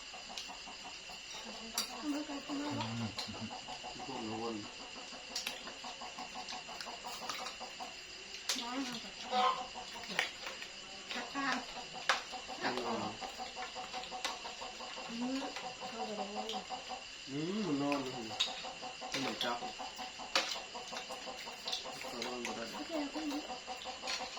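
Chickens cluck repeatedly around a rural Thai home, short rhythmic clucks and calls scattered throughout at moderate distance, with people talking intermittently in the background.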